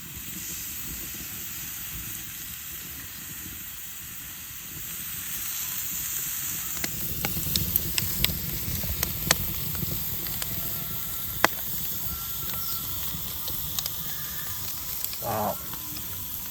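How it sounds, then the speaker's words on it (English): Beef skewers grilling at a campsite in Humboldt Redwoods State Park, a faint hiss that swells into a louder sizzle with scattered pops and crackles, close by, with brief voices nearby. "for dinner also we are grilling beef"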